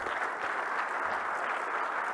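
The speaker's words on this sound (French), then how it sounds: "Je vous demanderai de l'applaudir." Applause at the Peace and Security in Africa forum, a steady, even wash of many hands clapping in a large hall, continuous for a couple of seconds.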